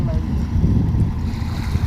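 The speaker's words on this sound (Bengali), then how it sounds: "দেখছেন একখানের পর একখান ট্রলার আইতেছে" Fishing trawlers pass one after another on a river, a low engine rumble mixed with water wash and gusty wind buffeting the microphone outdoors.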